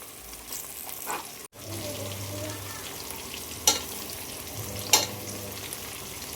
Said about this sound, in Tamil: இப்போ நம்ம பச்சை மிளகாய் போட்டுக்கலாம். இப்போ நம்ம நல்லா வதக்கிக்கலாம்.